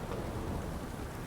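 Steady, dense rain pours in The Witcher 3 video game, a loud continuous hiss of drops with no talk over it.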